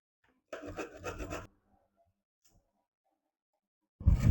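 Papaya is rubbed against a grater in two close, rasping bursts, one lasting about a second and another starting near the end, separated by near silence.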